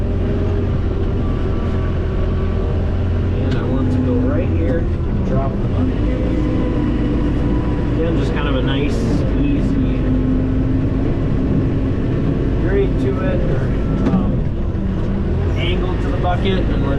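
A John Deere 4052R compact tractor runs steadily while backing up to grade a gravel lot, its engine droning loud and close for the whole stretch, with some talk over it.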